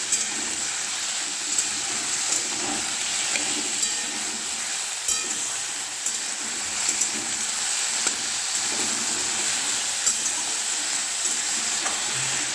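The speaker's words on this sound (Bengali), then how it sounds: "দেখো ওলকপি ফ্রাই করছি" Kohlrabi frying in a pan gives a steady, close sizzle with a constant crackling hiss and small pops throughout, and no voices.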